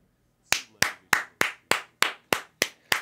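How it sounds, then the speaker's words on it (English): Hands clap nine times in a steady, even rhythm during a blackjack session, each clap sharp and close, with brief silence before the first. "Just going to keep clapping."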